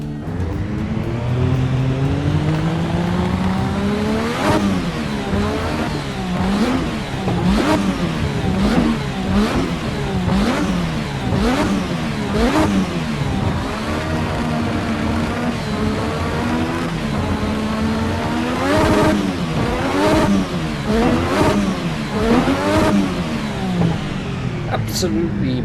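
A 1986 Formula 1 car engine in Assetto Corsa revs hard and continuously for the whole stretch, climbing and dropping through gear changes with loud, sustained pitch sweeps and no pause.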